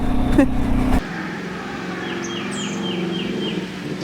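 A Can-Am Outlander ATV that pulls to one side and won't drive straight gives a loud, steady engine drone for about a second, then carries on as a quieter, continuous motor hum.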